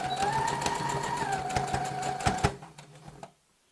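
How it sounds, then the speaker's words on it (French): A domestic sewing machine stitches the seam of a reversible fabric basket, a steady fast mechanical whir with rhythmic needle ticks, close and clear, slowing with a few clunks before stopping into quiet. "Donc je prends la machine, je fais mon petit point d'arrêt."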